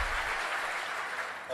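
Applause from a conference audience at a hacker congress talk, a broad steady wash of clapping filling the whole stretch at moderate level, with a trace of voice underneath.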